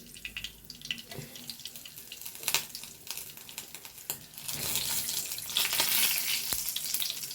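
Cardamom, cinnamon and cloves fry in hot oil for a masala curry, giving a continuous crackling sizzle with small clicks and scrapes that grows louder and brighter in the second half.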